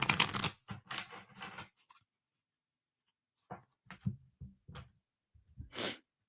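Tarot cards are shuffled by hand in a quiet room, a few papery riffling bursts separated by pauses, close and fairly soft, with no talking.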